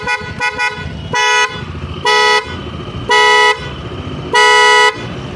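A Honda ADV 160 scooter horn honks in repeated short bursts, two quick beeps followed by four longer blasts, loud and close over a low engine idle.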